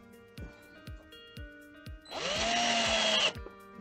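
A power drill drives screws into a motorbike tire on an FX110 build to make improvised snow spikes: a steady whirring burst of about a second, preceded by sharp ticking clicks, close and fairly loud.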